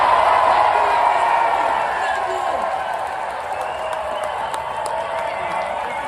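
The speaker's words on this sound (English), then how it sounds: "just take a look at the energy of the crowds that Vice President Kamala Harris is drawing" Big crowd at a Vice President Kamala Harris rally cheers and applauds in a sustained wash of clapping and shouts, slowly easing in loudness over several seconds.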